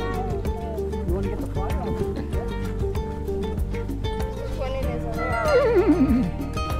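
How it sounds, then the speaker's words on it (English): A horse whinnies near the end at a pork barbecue event, a wavering neigh rising over background chatter and other noise, fairly close. "He's a big horse."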